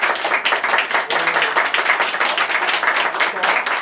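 Audience at a Tokyo beatbox battle final clapping loudly, a dense burst of many hands sustained throughout with small surges, close and bright.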